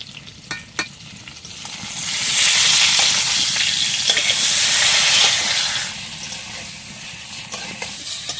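Potato pieces fry in hot oil with salt, chilli and turmeric, giving a steady sizzling hiss that swells loudly in the middle and then eases back, with a few stirring clicks and no voices.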